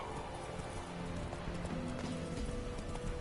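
Hooves of the horse Roach gallop in The Witcher video game, a fast rhythmic clip-clop running steadily under a dense layer of game ambience and music.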